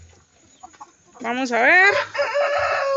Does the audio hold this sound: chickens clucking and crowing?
yes